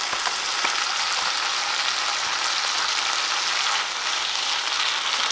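Pasta and vegetables cook in a hot pan with a loud, dense, continuous sizzle that holds steady close by throughout, with no voices.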